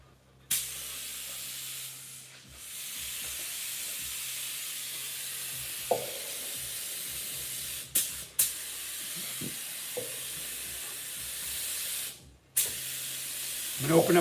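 Spray gun laying candy apple paint onto a patterned lowrider panel, a close steady hissing spray running in long passes with brief stops, clicks and small knocks between bursts.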